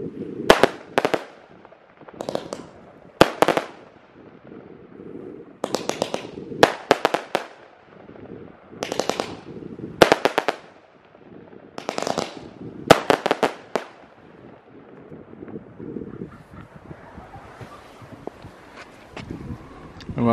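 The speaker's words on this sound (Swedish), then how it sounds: "Sen kommer Engelsrud batteri, 30 skott" An Engelsrud fireworks battery of 30 shots fired outdoors in Denmark, loud sharp bursts in irregular clusters with pauses between them, rumbling wind noise throughout, no voices.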